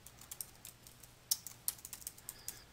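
Quick keystrokes on a computer keyboard, a string of light, close clicks with a few sharper taps, heard alone in a quiet room while a file name is entered.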